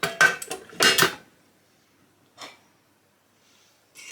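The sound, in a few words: opening a pressure cooker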